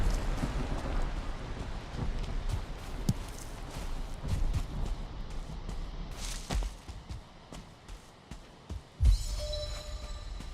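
Steady rainfall in the video game Valheim, a soft continuous patter with scattered droplet hits and a few louder thumps near the end, heard alone without talk.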